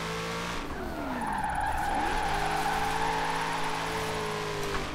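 Chevrolet C8 Corvette engine and tyres in Forza Horizon 4, a steady engine drone with sweeping pitch changes as revs climb and drop, layered with continuous tyre squeal from skidding throughout.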